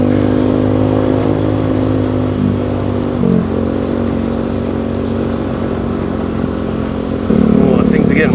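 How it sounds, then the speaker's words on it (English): A motorcycle engine drones steadily while riding a rough, low-clearance off-road track, close and continuous with small bumps and a louder surge near the end; a voice speaks over it. "things are getting wild for this bike"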